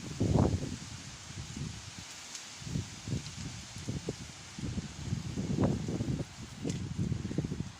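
Strong wind ahead of a desert storm buffets the microphone in rough, low gusts that swell and fade with uneven timing, with a rustling hiss underneath and no voices.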